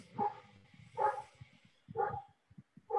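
Four evenly spaced woofs from a dog, about one per second, faint and somewhat distant, with low background rumble between barks and no voices.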